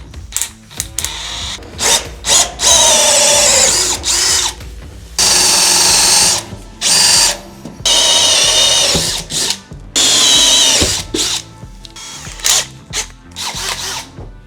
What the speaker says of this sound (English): so I can start with my drilling